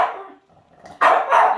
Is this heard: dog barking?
yes